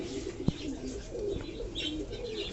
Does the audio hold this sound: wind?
no